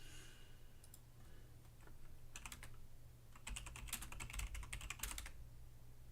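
Fingers type on a keyboard of bare switches with no keycaps, faint, clicky bursts of rapid keystrokes that come in short clusters with pauses between them.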